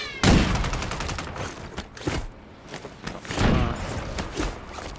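Heavy gunfire in the online shooter Warzone: dense rapid bursts and booming shots, loud and close, repeating across the whole stretch with brief lulls.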